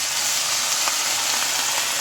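White wine poured into a hot pan while cooking pheasant gives a loud, steady hiss and sizzle, a continuous bright crackle heard close up with no talking.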